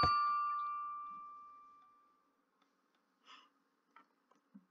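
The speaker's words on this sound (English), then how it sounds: "Ding dong." A doorbell in the Minecraft video game rings once with a bright, clear chime that fades slowly over about two seconds, followed by near silence and a few soft clicks.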